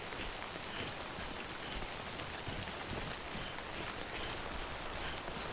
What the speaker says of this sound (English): All this shit is being ruined by this damn rain.